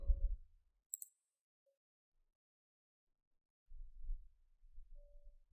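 A single faint, crisp click of a computer mouse during a software download, isolated in near silence between brief low murmurs of background sound.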